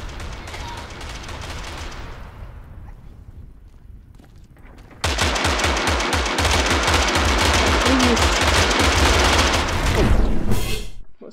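Video game gunfire bursts in after a quieter stretch, a dense, sustained rattle of rapid shots and booms that stays loud and continuous for several seconds before cutting off.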